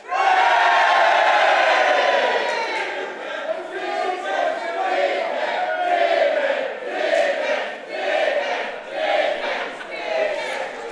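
A large wrestling arena crowd roars and chants continuously, with rhythmic swells of cheering rising and falling throughout, loud and sustained.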